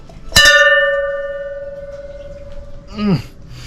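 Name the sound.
ship's bell ringing on a Chinese junk ship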